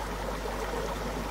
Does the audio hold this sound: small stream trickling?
yes